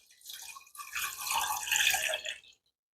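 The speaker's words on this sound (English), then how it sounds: "then you're going to pour in your bone broth" Bone broth pours steadily into a cooking pot, a continuous splashing liquid stream that swells and then stops abruptly, close and clear with no talking.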